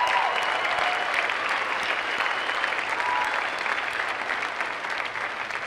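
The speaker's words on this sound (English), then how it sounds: "Let's give her a round of applause." Sustained applause from a large audience at the Adams State University undergraduate commencement in spring 2017, an even, dense wash of clapping that holds steady from start to finish.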